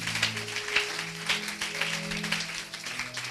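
Church congregation applauding during a French-language sermon, steady clapping from many hands throughout with a low hum of organ or keyboard chords underneath.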